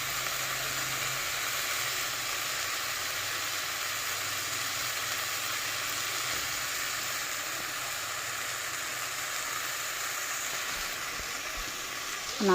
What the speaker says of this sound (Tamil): இதில் 2 முட்டை உடச்சி ஊற்றிக்கலாம்.